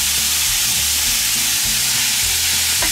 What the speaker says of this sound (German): die Saskia hier ein bisschen werkeln und das Hackfleisch schön anbraten